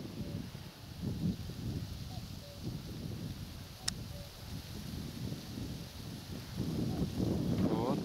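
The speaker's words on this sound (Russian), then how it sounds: "вот сегодня ветерочек дует" Light wind gusting steadily across a microphone outdoors in a spring field during a May roe deer hunt, a continuous low buffeting rumble that strengthens toward the end.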